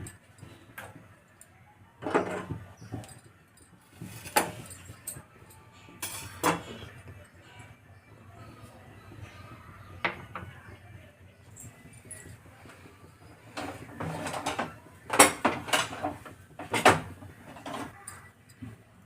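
A metal pan set down on a home stove before making Andhra-style fish curry, with scattered clanks, taps and sliding scrapes of cookware spread irregularly across a quiet kitchen, louder clatters bunching toward the end.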